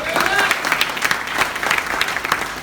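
Audience applause for a presenter at a seminar-style talk, a dense burst of clapping from a crowd indoors, steady and fairly loud across the whole moment.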